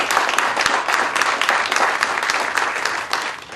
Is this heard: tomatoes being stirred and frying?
no